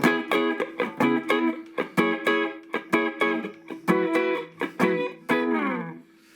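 An electric guitar through a Hughes & Kettner Metal Master solid-state amp plays a run of quick strummed chords with a mild, gritty crunch at low volume, ending on a sustained ringing chord.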